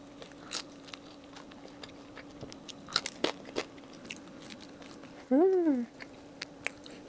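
Crisp bites and chewing on a blueberry bagel baked crunchy like a cracker on the bottom, with soft crunches and mouth sounds scattered throughout and a brief tonal hum midway.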